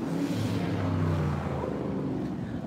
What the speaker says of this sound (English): Oh, we heard that little rev of your engine.